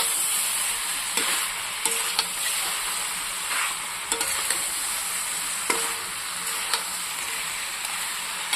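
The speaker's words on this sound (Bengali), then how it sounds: "আমি এটাকে সুন্দর করে কষিয়ে নিচ্ছি" Spice masala with green chili sizzles steadily in a pan for a crab and bottle gourd curry, with sharp clicks of stirring every second or so and no talk.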